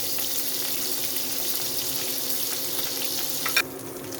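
Spice tempering dropped into hot butter for shahi butter paneer, a steady hissing sizzle close by, with a brief clink near the end and no talk.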